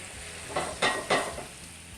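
Pan sautéing as Cabernet Sauvignon wine is poured in, a steady sizzle swelling into a few loud hissing bursts as the liquid hits the hot pan, close and without talk.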